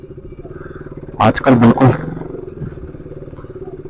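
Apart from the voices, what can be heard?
motorcycle riding on a road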